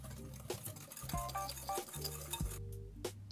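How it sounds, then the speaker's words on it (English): A whisk beats eggs and sugar in a bowl for a gianduiotto cheesecake filling, giving quiet rhythmic clinks and taps against the side, close and faint with no talking. "Add in your eggs, sugar, and whisk these until they're pale, light and fluffy"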